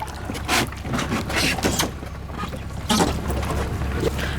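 A canoe being slid into cold water in the Florida Everglades, with irregular knocks, scrapes and sloshing splashes, fairly close and loud.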